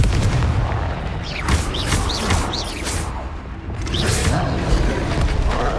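Confringo fire blast spell cast in Hogwarts Legacy, a dense rumbling boom with crackling bursts over continuous game combat noise, loud and near throughout.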